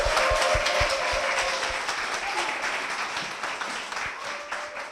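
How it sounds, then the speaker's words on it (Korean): An audience at a Korean church program applauds to welcome a guest, a steady crowd clapping close by that slowly thins and softens toward the end. "은혜교회로 인도하신 김선미 권사님 박수로 모시겠습니다."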